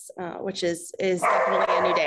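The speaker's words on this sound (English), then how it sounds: "And I apologize for the dogs barking in the background." Wheaten Terriers bark in the background, a few sharp yapping barks mixed in under a person speaking in the foreground.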